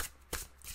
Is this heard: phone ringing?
no